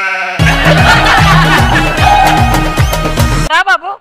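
A person imitates a goat's bleat, a wavering voiced cry repeated in pulses over background music, ending in a few short quavering bleats alone.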